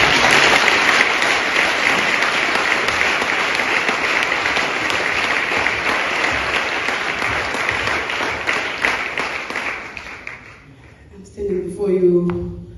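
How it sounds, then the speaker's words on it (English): Loud, sustained congregational applause in a church, dense clapping that fades out near the end before a voice and other sounds come in. "clap for Jesus"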